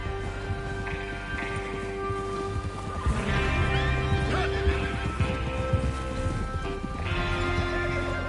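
Horses whinny and neigh loudly in a Western-themed video game as riders prepare to head out to rob a train, with hooves clip-clopping and rustling underneath and a sustained music bed throughout.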